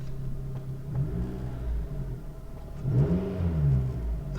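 A car engine revs loudly through a deep, rumbling straight-piped exhaust, rising twice in pitch and falling back, close and without talk.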